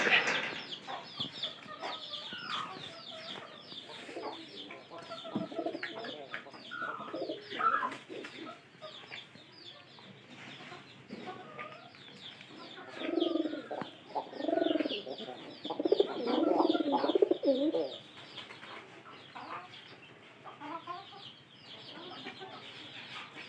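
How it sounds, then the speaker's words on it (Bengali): Large pigeons kept in a loft coo and cluck continuously, with soft overlapping calls from several birds and louder bursts of cooing swelling up midway, heard close by with no talking. "এবং কি অনেক বড় পায়রা।"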